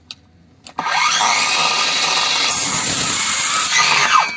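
HEIMERDINGER LB293 cordless circular saw spinning up and cutting through fresh wood at high speed, a loud, sustained high-pitched whine after a brief quiet start, close by with no talking.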